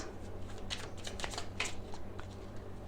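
Tarot cards being shuffled by hand, a close, soft run of riffling flicks and slides lasting a few seconds, with no speech.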